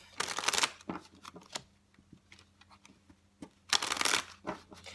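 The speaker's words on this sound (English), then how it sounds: "I really want to get these cards shuffled." Tarot cards are shuffled in two quick riffling bursts a few seconds apart, with soft taps and handling noises in between.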